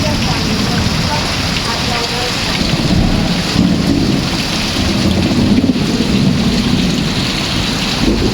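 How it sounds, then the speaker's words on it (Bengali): Heavy rain pouring steadily with low rumbling thunder, lightning strikes nearby, and wind buffeting the microphone, loud and continuous throughout, in rural West Bengal. "ভালোই বিদ্যুৎ চমকাচ্ছে বাজ পড়ছে"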